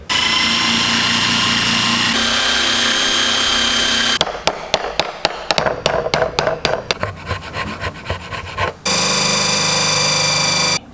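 A power tool notches the body of an old guitar to take a truss rod, grinding loud and steady for several seconds, then breaking into a run of sharp stuttering bursts before the continuous grinding returns.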